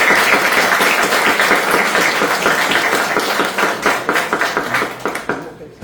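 An audience giving a round of applause, dense clapping at first that thins out into scattered individual claps as it fades toward the end.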